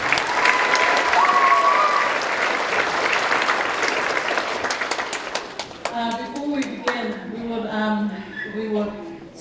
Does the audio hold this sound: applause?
yes